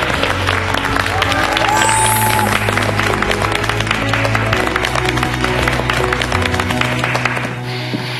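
A studio audience breaks into sustained applause and cheering, a dense wash of clapping that holds loud and steady for several seconds before tapering off, with background music underneath.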